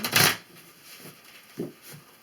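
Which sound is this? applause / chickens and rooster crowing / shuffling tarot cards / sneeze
shuffling tarot cards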